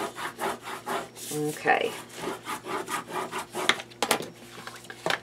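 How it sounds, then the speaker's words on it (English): Paper on a 6x6 mini album rubbed down with a burnishing tool, giving steady back-and-forth scraping strokes up close, with a brief spoken word partway through. "And give it a nice burnish."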